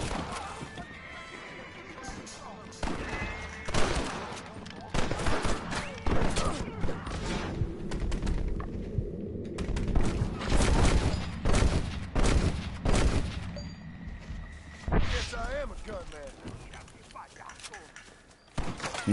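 Rifle shots ring out in Red Dead Redemption amid horse whinnies and clip-clopping hooves, the sharp cracks scattered through a busy, loud mix while someone talks.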